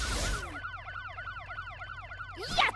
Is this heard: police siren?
yes